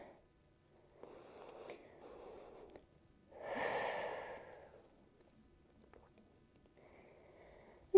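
Slow, deep breaths during a yoga session: a soft inhale, then a longer, fuller exhale swelling near the middle, with quiet gaps between breaths in a calm, still room.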